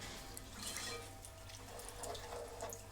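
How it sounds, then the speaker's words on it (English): Water is poured into a cooking pot for cornmeal, making a faint, steady running and splashing sound at low level with no voices. "Alright, so I'm going to add some water."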